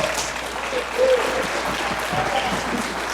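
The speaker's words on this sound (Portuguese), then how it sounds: "Pode aplaudir ao Senhor" A church congregation applauds the Lord during a sermon, a dense, continuous wash of clapping with voices faintly mixed in beneath it.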